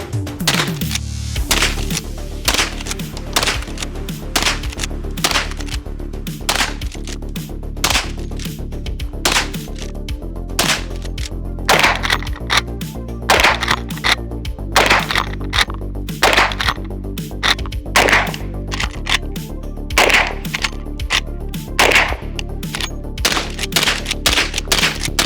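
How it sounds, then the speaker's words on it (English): Rapid, loud gunshots from a Henry All-Weather lever-action rifle ring out in a steady string of sharp cracks over roughly twenty-five seconds, with dense echoing reports and no talk. "now that we just shot the Henry all-weather"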